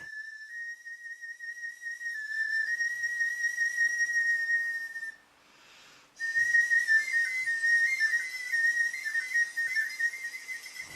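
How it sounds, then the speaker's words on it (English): Bone flute carved from a griffon vulture wing bone plays a sustained, breathy high tone with small pitch wavers, stopping briefly mid-phrase before resuming, clear and solo. "This one is made on the wing bone of a griffon vulture, which gives you a longer flute with more finger holes"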